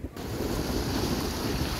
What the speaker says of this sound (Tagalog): Malakas ang alon ng dagat.